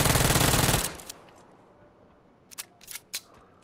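Automatic gunfire in a Fortnite-style solo versus squads battle royale match, a loud rapid burst up front that cuts off, followed by a few scattered sharp shots further away.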